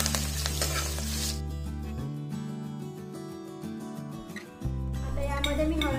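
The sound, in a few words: green chillies sizzling as they are sautéed in oil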